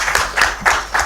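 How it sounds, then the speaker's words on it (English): Audience at a conference session applauds partners with a few slow, distinct claps, about four evenly spaced hits, fairly close and moderately loud. "Let's give them a round of applause"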